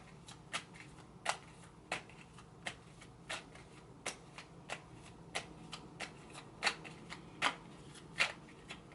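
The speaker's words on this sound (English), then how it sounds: "This is the Universal Cards deck by Juliet Jaffrey Hubbs." A tarot deck of Universal Cards being shuffled, giving a steady run of soft, crisp card riffles and taps at an even pace, close and fairly quiet, with no talking.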